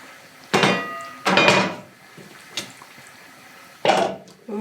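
A heavy pot of home-canned Boston baked beans being handled in a kitchen, with several loud metallic clanks and scrapes spaced out between short pauses.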